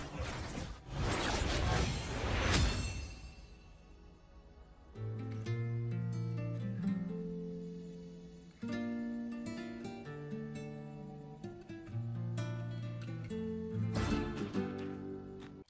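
Ciaccona's guitar tune from the video game Wuthering Waves: a brief whooshing burst opens it, then a steady melodic line of plucked, sustained notes plays clearly on its own, with no voices.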